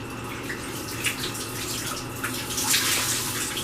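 Water drips and trickles from wrung-out laundry into the bottom of a holed hamper, a steady close wet patter with a few louder splashes.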